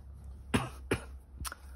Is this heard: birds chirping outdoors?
no